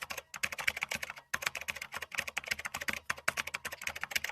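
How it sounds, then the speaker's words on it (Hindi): Rapid, steady keystrokes on a computer keyboard while an Aadhaar card number is entered, close and clear, with one brief pause partway through and no talking. "अभी हम आधार कार्ड नंबर एंटर कर रहे हैं।"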